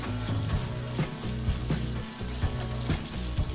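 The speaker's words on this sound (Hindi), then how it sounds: "हमने इसे उस वक्त तक भूनना है जब तक सूजी की अच्छी खुशबू ना आने लगे" Semolina dry-roasting in a pan for sooji halwa, a dense, continuous hiss and crackle close by with a regular pattern of scraping stirs throughout, loud and without talk.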